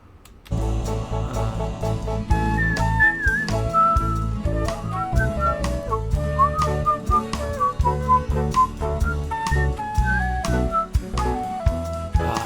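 A whistled melody plays as the solo in an indie song, winding over a full band mix of steady drums and bass, with no talking.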